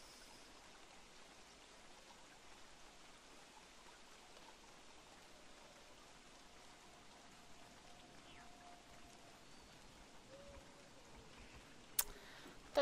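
Steady rain in the survival video game Don't Starve: a faint, even hiss of falling rain throughout, with a brief click near the end and no talking.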